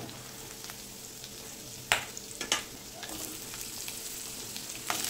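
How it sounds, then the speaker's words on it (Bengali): Cut potatoes hit hot oil with garlic and chilli, producing a soft sizzle with a few sharp bursts and scraping stirs close by, no voices. "যোগ করে দেব কেটে রাখা আলু।"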